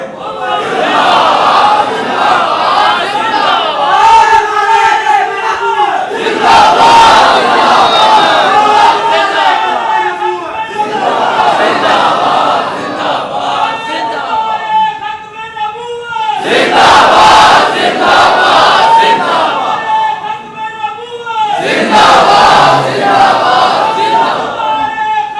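Large crowd at a religious gathering shouting slogans in unison, loud call-and-response chants answered in waves and separated by brief pauses, with voices blending into a roaring choral mass.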